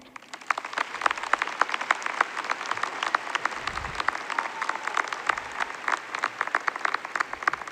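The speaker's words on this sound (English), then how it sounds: "If I could please get a quick round of applause for all the people in our lives" A high school graduation audience breaks into loud, sustained applause, dense and steady clapping from a large crowd with no talk over it.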